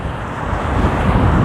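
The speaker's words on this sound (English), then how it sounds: "I wonder how much wind you hear, because it's windy." Steady wind buffeting a microphone fitted with a wind guard, a continuous low rumbling roar with no speech, holding fairly loud throughout, outdoors on a chilly walk.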